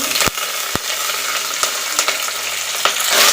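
Garlic, mustard seeds, cumin and curry leaves sizzle loudly in hot oil in a pan, with sharp pops and crackles breaking over a steady hiss and a brighter burst near the end.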